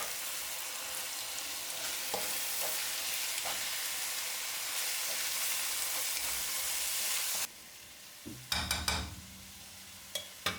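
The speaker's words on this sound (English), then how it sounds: "Simmer until the wine reduces and almost completely evaporates." Red wine simmering in a pan of bolognese sauce, a steady bright sizzle and bubble that runs for several seconds, then drops away as utensils clink and scrape against the pan a few times.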